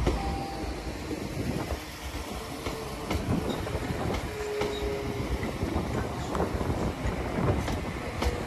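A Class 196 diesel passenger train departs Shrewsbury station, rumbling steadily past at moderate distance, wheels clattering over the rails with a continuous low mechanical drone.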